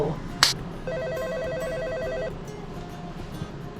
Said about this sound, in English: we'll see you right after this phone call